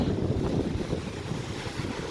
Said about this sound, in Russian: Море волнуется.